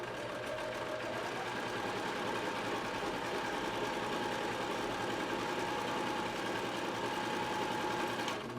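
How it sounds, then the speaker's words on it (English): Close, steady whirring of a sewing machine stitching a soft cotton felt face mask, a continuous low mechanical hum with no voices. "real-time sewing."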